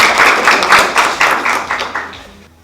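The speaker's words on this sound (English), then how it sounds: "But clap for us as well." An audience claps in a brief burst of brisk, close applause that fades out over a couple of seconds.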